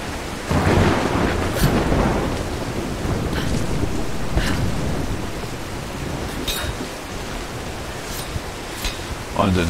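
A thunderstorm in the video game Tomb Raider 2013, with steady heavy rain hiss and low rumbling thunder throughout, occasional sharper crackles, and a voice talking over it.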